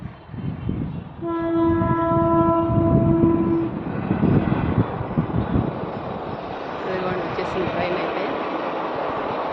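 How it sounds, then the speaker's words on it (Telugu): A train rumbles past with a loud horn blast early on, its clatter steady and close, then fading slightly as it continues; voices talk faintly underneath. "ట్రైన్ అయితే వస్తుంది"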